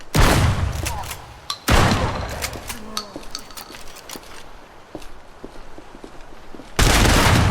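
Shotgun blasts in the video game Project Silverfish: three loud, close booming shots spaced several seconds apart, with lighter clicks and clatter between them.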